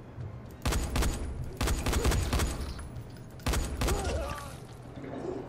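Gunfire in Dying Light: The Following comes in three loud, dense bursts of rapid shots, each lasting under a second, separated by brief pauses, with no talking over it.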